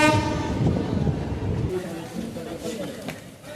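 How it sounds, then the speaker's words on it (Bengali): A local train, the 05751 New Jalpaiguri to Haldibari special, rolls into Raninagar Jalpaiguri Junction: a horn sounds at the start over a steady rumble of wheels and carriages, with a voice talking over the noise. "দেখো বন্ধুরা আমরা এন্টার করে যাচ্ছি রানীনগর জলপাইগুড়ি জংশনে"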